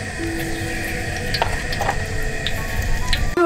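Salt sizzles in hot oil in a wok as a steady close fizz with a few faint clinks, ending with a brief clatter.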